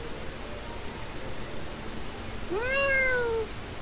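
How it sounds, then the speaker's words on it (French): A domestic cat lets out a single clear meow near the end, close and fairly loud over a quiet hiss of background noise. "C'est mon chat là. Je pense que c'est mon chat."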